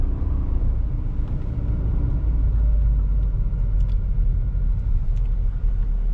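A 2017 Proton Persona 1.6 automatic rolls along the road, heard from inside as a steady low engine rumble and tyre drone with faint clicks above it.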